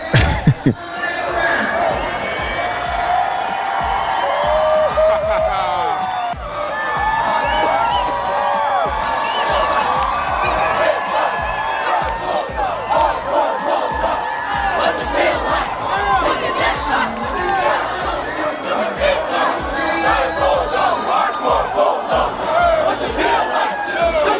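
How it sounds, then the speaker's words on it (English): A large crowd screams, cheers and whoops continuously at a U.S. Air Force graduation ceremony, a dense roar of many voices with shouts rising above it throughout. "everybody was screaming, and they were screaming, and they were really screaming"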